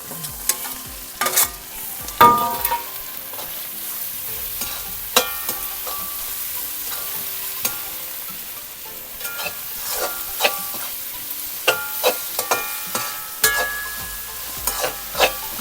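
Tomatoes are stirred and fried for a Kerala-style mutton curry cooked over a wood stove: a soft continuous sizzle broken by irregular scraping and clinking stirring strokes, close and with no voices.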